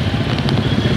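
Bikers' motorcycles rumble at a busy petrol station near Manali on the way to Leh-Ladakh, a dense, continuous mix of engines with faint crackly clatter and no clear talk.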